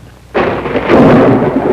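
Heavy driving rain with rumbling thunder swells in abruptly and roars steadily throughout, loud and close, from a 1950s Chevrolet commercial.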